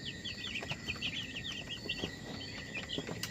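Day-old Cobb 500 broiler chicks peep in a rapid, overlapping chorus of high chirps, steady and fairly close, over a low background hum.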